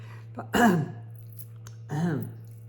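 A person clears their throat twice, close and distinct, with two short raspy bursts separated by a quiet pause and a low steady hum beneath.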